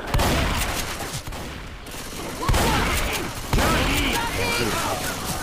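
Video game gunfire from Left 4 Dead in a co-op match: bursts of shots and booming blasts stacked densely across the whole stretch, loud and close, with players talking over the action.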